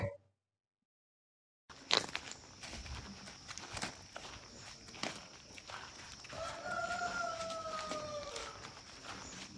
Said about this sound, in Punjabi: ਮੁਰਗੇ ਦੀਆਂ ਵਾਂਗਾ